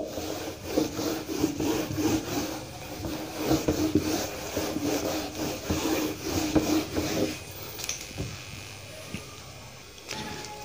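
Eraser rubbed back and forth across a classroom board during a maths lesson, giving a run of rapid, rhythmic scrubbing strokes up close for about seven seconds before it stops, followed by a few faint knocks.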